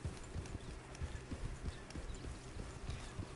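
Horse hooves clip-clop steadily at a walking-to-trotting rhythm in Red Dead Redemption 2, soft and fairly faint, with no talk over them.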